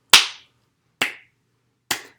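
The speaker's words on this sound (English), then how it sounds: "Clapping." Hands clapping three times, with sharp, close single claps spaced about a second apart in a quiet room.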